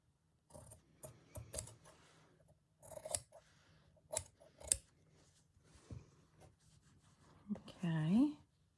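Scissors trimming fabric for a Japanese rice bag, a series of quiet close snips and crisp cuts in irregular bursts, with a person talking softly in between.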